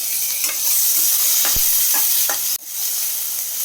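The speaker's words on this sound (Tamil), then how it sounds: "வெங்காயம் ஓரளவுக்கு வதங்கிருச்சு இந்த ஸ்டேஜில் வந்து ஒரு தக்காளி சேர்த்துக்கலாம் இது வதங்கட்டும்" Onion and tomato sautéing in a pan for a raw banana gravy, giving a loud, dense, continuous sizzle with a few soft stirring scrapes, cut by a brief dip before the hiss returns.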